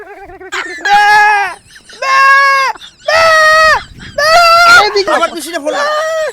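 A person imitates a goat's bleat in a series of five loud, wavering, nasal cries, each about a second long with short gaps between, close and clear.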